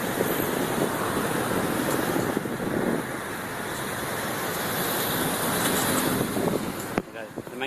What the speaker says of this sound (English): stuck in traffic